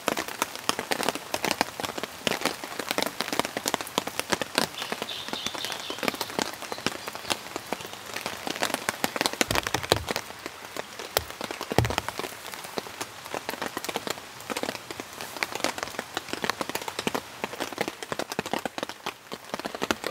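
Steady rain patters on a campsite tent in a heavy rainstorm, a dense, continuous hiss of drops with occasional louder thuds and taps close by, running on without a break.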